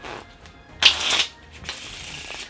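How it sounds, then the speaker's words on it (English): A single quick riffle of playing cards, a crisp burst of rapid flutter lasting under a second, followed by a softer settling rustle. Close and fairly loud, no talking. "Cards can be shuffled."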